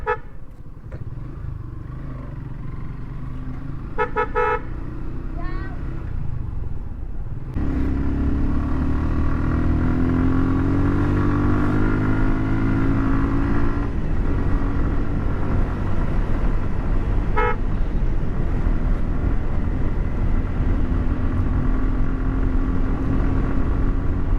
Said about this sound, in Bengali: জিক্সারের সাউন্ড পিক আপ ধরলে এবার একেবারে অন্যরকম সাউন্ড আছে একটা